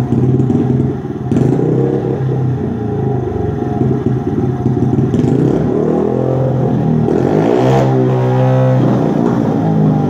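A Honda XR50 motorcycle engine idling right after a kick start, a loud close steady putter that briefly rises and wavers near the end.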